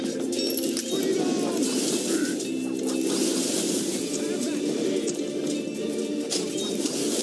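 Carrier pigeons cooing in the Kingdom Rush Frontiers video game, gentle rolling coos repeating amid a dense, constant mix of battle effects and background music.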